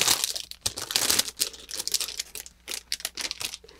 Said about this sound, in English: Some of these bags are easier to open than others.